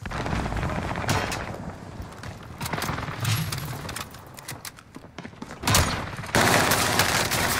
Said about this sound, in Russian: Союзник наносит точечный авиаудар.